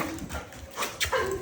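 A puppy whimpers and whines softly at close range in a short series of thin, rising cries between quiet snuffling and movement noise.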